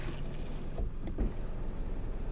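Sunroof of a Tata Nexon Creative S Plus opening: a steady low motor hum runs throughout inside the car, with a couple of soft mechanical thumps partway through and no voices.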